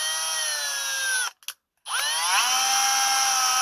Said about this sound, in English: you're going to drill nice and straight up and down all the way through